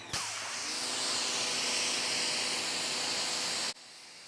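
A garden hose sprays water steadily over a car to rinse it after a wash, a loud continuous close hiss that cuts off abruptly near the end.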